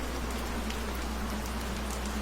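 Steady rain patters on a surface with dense, even drops and a low constant hum beneath, moderately faint and with no voices.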